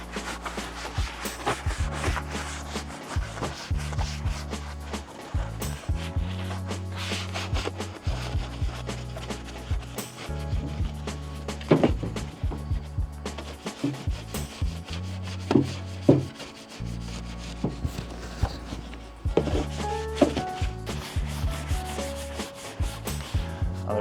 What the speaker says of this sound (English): I will grab a soft brush like this and some foam in it, and just use this to agitate all the parts